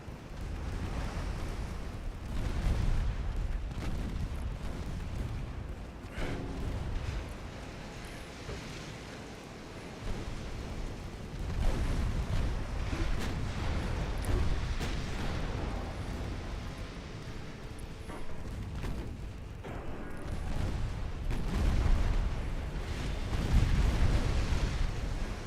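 Dreadnought-era naval guns fire in Ultimate Admiral: Dreadnoughts, with deep booming blasts that blur into a continuous rolling rumble and roar lasting the whole stretch and swelling at intervals.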